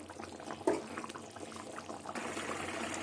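Tel koi, climbing perch fish curry, simmers in oil in a pan with a steady bubbling sizzle. A brief louder clink or splash comes near the start, and the bubbling grows a little brighter toward the end.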